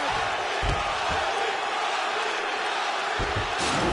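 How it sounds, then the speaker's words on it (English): A loud video game crowd in UFC 4 roars and cheers continuously after a round of a fight, with a few thuds and bursts rising out of the steady din. "So the crowd voicing its appreciation after that round."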